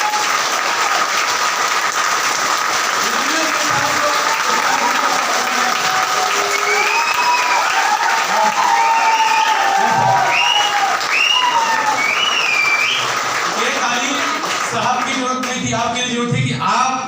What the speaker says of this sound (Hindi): उनके लिए बहुत जबरदस्त ताली।